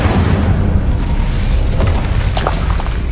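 Incendio fire spell cast in Hogwarts Legacy, a loud, steady roaring whoosh of flame with a low rumbling body, lasting a few seconds without a break.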